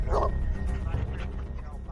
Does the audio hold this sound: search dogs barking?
yes